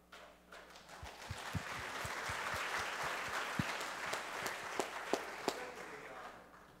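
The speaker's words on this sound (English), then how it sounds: "I'm just going to give you another round of applause." An audience applauds a panel at an education conference, clapping that swells in and continues at a moderate level, with a few louder individual claps standing out near the microphone toward the end.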